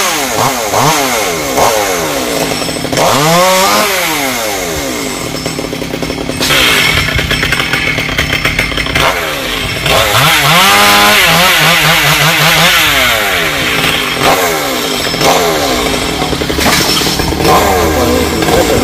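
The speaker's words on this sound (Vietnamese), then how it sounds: "Hàng bên đây thì cưa bớt cái phần đọt mà" Chainsaw cutting back the top branches of a tall Sao tree in the Mekong Delta, engine revving up and down in repeated bursts, loud and close, with no talking.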